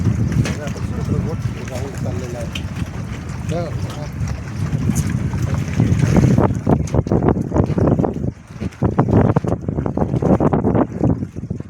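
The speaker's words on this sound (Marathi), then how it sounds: "बघा आता हे स्कूटर बोटिंगचा राऊंड चाललेला आहे." A jet ski motor drones on a river over rushing water and gusting wind noise buffeting the microphone, loud and close throughout, with voices mixed in.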